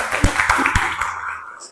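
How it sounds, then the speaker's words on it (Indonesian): Classroom audience applauding a student group's project presentation at a school in Indonesia: a short burst of dense, mid-close clapping that thins out toward the end. "silakan tepuk tangan dulu"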